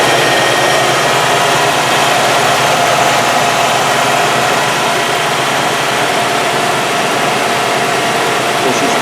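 A Ford Thunderbird MN12 with the 5.0 H.O. V8 idles close by, a loud, steady engine drone that holds even for the whole stretch, a voice briefly heard beneath it.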